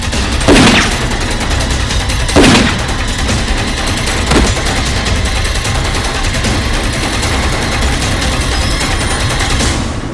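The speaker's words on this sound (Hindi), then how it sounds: "पुलिस के साथ फायरिंग हो रही है।" Movie sound effect of a gunfight with police: loud, dense, continuous automatic gunfire with a few heavier booming shots standing out early, filling the whole stretch without speech.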